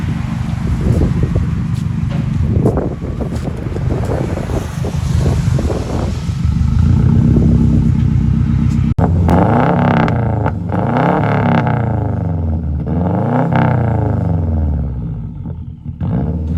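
A 2007 Subaru Impreza WRX with a straight-pipe exhaust rumbles loud and close at idle, then revs repeatedly in rising and falling sweeps with a raspy, throaty roar.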